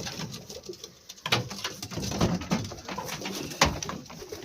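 Racing pigeons in a loft coo steadily at close range, soft repeated throaty calls overlapping with some rustling and movement, no talking.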